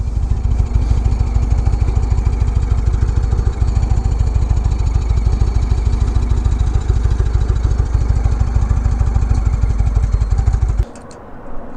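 Indian Chieftain motorcycle fitted with an Arlen Ness air cleaner, its engine rumbling loud and close as the rider pulls over, a steady throbbing drone that drops away sharply near the end, with no talking.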